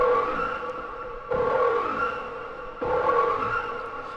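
Another take on the synthetic storm siren patch from Pacific Drive, built from different wavetables: a droning, moaning electronic tone that swells again at regular intervals, sustained and fairly loud with no voices.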